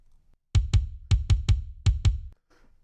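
Soloed kick drum trigger sample in an emo production, a run of seven tight, punchy kick hits in a quick syncopated pattern, clean and dry against silence.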